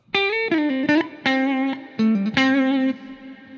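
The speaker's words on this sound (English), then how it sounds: "So my 1-bar melody sounds like this." A short distorted electric guitar phrase of several sustained, bending notes, loud and close with a gritty tone and no talking.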